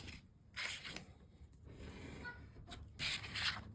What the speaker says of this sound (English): Flip it over. Let's just burnish it really well.